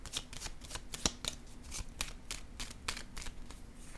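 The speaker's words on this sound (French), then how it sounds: "J'ai le goût de piger une carte sur la triste nouvelle." Close, quiet riffles and flicks as a deck of tarot cards is shuffled by hand, a steady series of papery snaps repeating roughly every few tenths of a second, with no voices.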